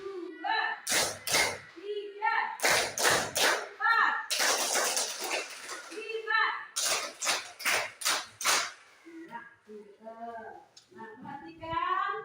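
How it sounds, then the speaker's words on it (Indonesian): Schoolchildren in a class clap a rhythmic spirit clap in sharp, loud bursts of several quick claps, each burst set off by chanted voices and a lead speaker between sets. "kita tepuk semangat dulu ya. Tepuk semangat."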